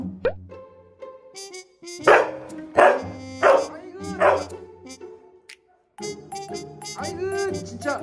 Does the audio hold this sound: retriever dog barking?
yes